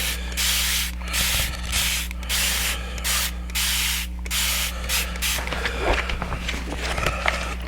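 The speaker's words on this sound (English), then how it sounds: "I'm going to spray it again from the back." Several hissing bursts of aerosol spray, each about a second long with short pauses between, followed by soft rubbing and handling noises.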